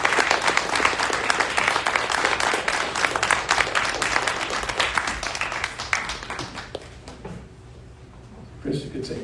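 Applause from the audience at a community rights event in a plaza, dense clapping that stays loud for several seconds, then thins and fades, with a brief burst near the end.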